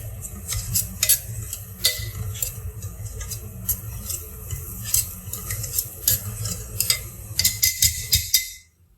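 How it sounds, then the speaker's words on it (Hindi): A metal utensil mashes dal with bottle gourd (ghiya) in a pot, making repeated close taps, scrapes and soft squelches in an irregular rhythm before stopping abruptly at the end, with no talking. "थोड़ा सा इसको मैश कर देते हैं ताकि अच्छे से मिक्स हो जाए"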